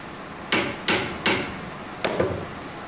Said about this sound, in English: I'm going to hammer my nail down until the head is sitting at the 1/4 inch mark on my ruler